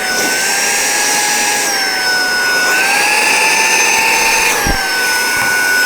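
A small handheld suction device from Temu switched on and running, giving a loud, steady high-pitched whine with a slight pitch shift midway and a brief bump near the end.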